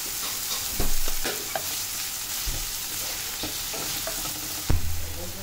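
Chopped onion sizzles loudly in a pan after a pinch of salt goes in, a bright continuous hiss with a few heavier thuds and scrapes from stirring, close up and without speech.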